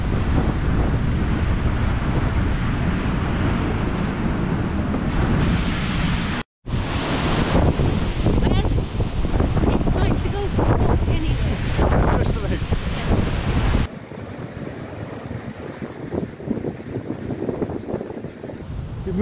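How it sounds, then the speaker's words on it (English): Strong wind buffets the microphone on an exposed Corsican beach during a kayak circumnavigation, a loud continuous roar with surf beneath, breaking off briefly and then easing to a lower, gustier rush; a person talks over parts of it. "it's very windy, it's very exposed"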